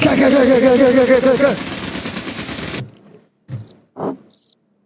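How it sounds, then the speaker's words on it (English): Crickets chirp in rapid, pulsing trills at a fairly close and loud level for about three seconds, then stop, leaving a few short sounds in near silence. "oh, I miss the crickets"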